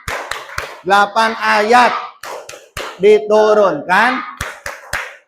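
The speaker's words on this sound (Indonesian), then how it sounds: "tepuk tangan untuk semuanya" Sharp hand claps punctuate a rhythmic classroom chant about Surah At-Tin, with a teacher and children's voices speaking in a sing-song cadence and claps falling in steady beats between phrases.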